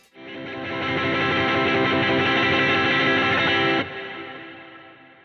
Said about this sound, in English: I'll throw in the heavy delay and the heavy reverb together and go for a big tremolo in that last note